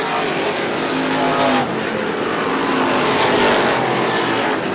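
Race cars roaring around the Star Speedway oval during a late-stage feature, a dense, loud engine drone filling the whole clip with a slight swell as cars pass, no talk heard.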